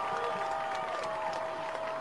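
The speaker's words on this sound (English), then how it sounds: "Great crowd here tonight." Crowd at a high school football game cheering and applauding, a steady, fairly faint wash of clapping and voices in the distance, with a commentator's voice over it.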